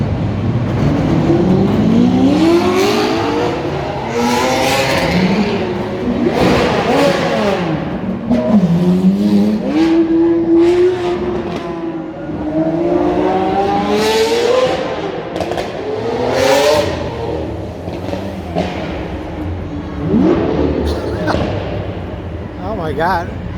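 Several sports cars pull away from a green light on a downtown Chicago street, engines revving and rising in pitch as they accelerate past, loud and continuous, with people talking over the traffic noise.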